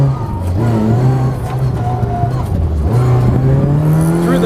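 A Ford Escort rally car accelerating hard on a tarmac rallysprint stage, its loud engine note climbing through the revs, dropping briefly at a gear change, then rising again, close and continuous throughout.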